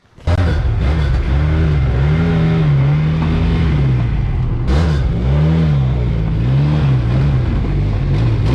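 An Arctic Cat F1100 four-stroke snowmobile engine revs hard and close, a loud continuous wail rising and falling in several swells with a sharp blip partway through.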